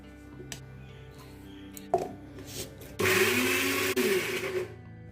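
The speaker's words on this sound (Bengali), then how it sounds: "এরপরে একটা স্মুথ পেস্ট তৈরি করে নেবো। তার জন্য নিয়ে নিয়েছি একটা মিক্সার গ্রাইন্ডার" A mixer grinder blends a mango mixture into paste: a few quiet clicks and a clatter, then the motor bursts in loudly, whines up and runs hard for about two seconds with a brief dip.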